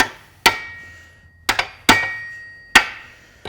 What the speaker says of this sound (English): You want to give it a couple little taps with a hammer, one on the bottom, one on the top.